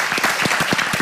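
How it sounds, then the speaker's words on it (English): Audience applause after a medical presentation on lung cancer therapies, a dense wash of many hands clapping at close range, steady and loud for about a second with no voices. "Big round of applause."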